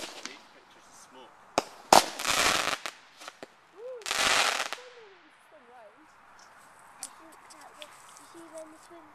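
A small fireworks display goes off with a few sharp bangs and two longer crackling, hissing bursts, plus a whistling whine, followed by scattered faint pops, with voices talking in the background.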